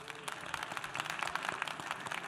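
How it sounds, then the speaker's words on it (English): An audience at a summit stage claps in a dense, steady round of applause, moderately distant and even throughout the short stretch. "Give yourself a round of applause."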